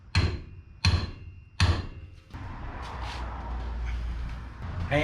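Three heavy, ringing metal blows from a hammer strike a stuck brake caliper at a steady pace, followed by a clattering, rustling workshop noise.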